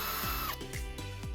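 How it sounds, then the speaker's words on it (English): A power drill bores holes, top and bottom, for mounting a Tapo D235 video doorbell, with a loud whine broken by several short rhythmic bursts, close and steady throughout. "using a drilling machine, drill holes on the top and bottom"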